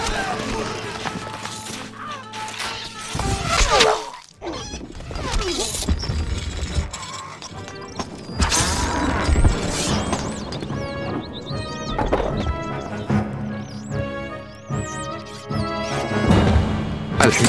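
Horse hooves pound at a gallop in Stronghold Crusader, mixed with crashing game effects and a busy, cluttered soundscape that runs throughout.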